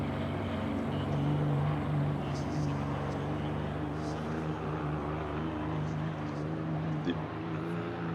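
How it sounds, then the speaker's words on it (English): A Porsche 991 GT3 boxer engine in the Assetto Corsa Competizione racing game at Spa-Francorchamps holds a steady, even drone throughout, while someone talks over it. "the engine note of the Boxer"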